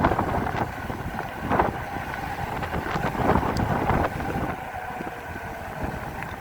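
Strong wind roaring and buffeting the microphone while riding an EMX Xtreme dual-motor 60V electric bike on a road, a steady rushing noise with gusty thumps and no talking.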